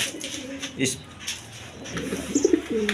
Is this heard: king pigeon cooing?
yes